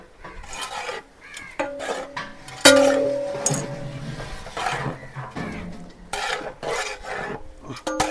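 Onions, crushed garlic, ginger and green chillies sautéing in a large pot for a 75 kg chicken kurma, heard as repeated metal ladle scrapes and clinks against the vessel over a soft sizzle, with occasional louder knocks.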